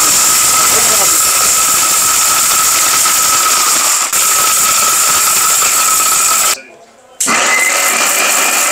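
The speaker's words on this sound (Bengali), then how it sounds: "দেখেন ব্লেন্ড কিন্তু হচ্ছে, হলুদ কিন্তু প্রায় হয়ে গেছে" A Miyako high-power blender grinds turmeric into powder: a loud, steady motor whine with a bright hiss runs close and continuous, briefly cutting out near the end before resuming.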